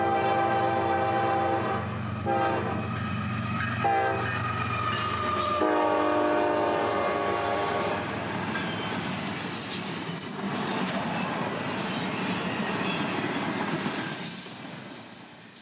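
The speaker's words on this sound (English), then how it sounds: "the last train of the night shows up, calling us I-145" An intermodal freight train rolls past at night in Florida, wheels squealing loudly and a horn sounding with clickety-clack underneath, the roar continuing steadily before easing off at the end.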